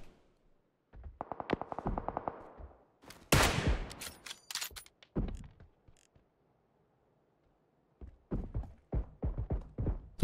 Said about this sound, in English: they're getting shot at from northwest